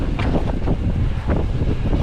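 Strong wind on Mount Fuji near the seventh station at about 3,090 metres batters the microphone in loud, continuous low rumbling gusts that surge and ease over two seconds.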